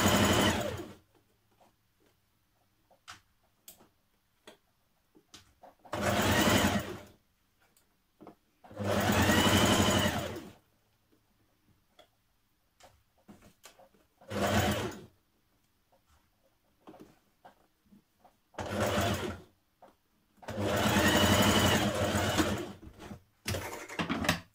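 A sewing machine stitches cuffs onto a Simplicity 8546 shirt dress in five or six separate close bursts of whirring, each a second or two long, with quiet gaps between and no talk.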